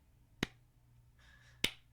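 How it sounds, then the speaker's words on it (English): Two sharp hand claps about a second apart, close and fairly loud, with a faint background hum and a soft tonal sound between them. "That's the sound of me clapping."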